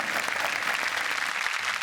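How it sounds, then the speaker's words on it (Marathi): Studio audience on the Marathi comedy show Chala Hawa Yeu Dya applauds as a guest, actress Mayuri Wagh, is welcomed; steady, dense clapping fills the room evenly for the whole stretch, without voices. "जोरदार टाळ्या तिच्यासाठी"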